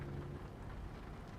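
Gentle rain falls in the Euro Truck Simulator 2 driving game, a soft, steady hiss of rainfall with a low rumble underneath, faint and continuous without any breaks.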